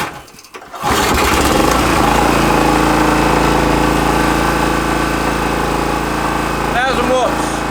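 An old 1000-watt generator engine starts up after a brief sputter and settles into a steady, loud, close running drone, with a short squeaky noise near the end.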